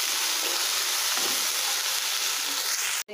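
Coconut pieces, ginger, garlic and green chilli frying in oil in a pan give a loud, steady, close sizzle with faint stirring, then a brief sharp clatter at the end.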